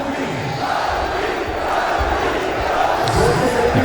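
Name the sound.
cricket crowd chanting near Afghanistan victory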